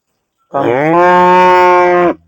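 A cow in a cattle shed on a natural farm gives one loud, long, sustained moo close by, with silence before and after.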